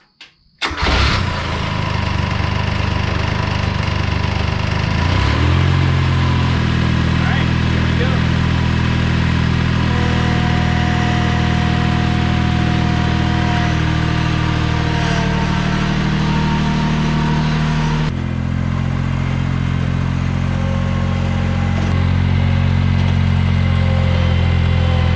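A Steiner 430 Max (Ventrac) mower, rescued after sitting for years in a junkyard, cranks briefly and fires up, then runs loud and close at a steady idle with shifting engine tones throughout.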